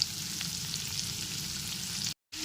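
Pumpkin fries in a pan with salt and turmeric added, a steady close sizzle with faint stirring, broken by a brief silent gap near the end.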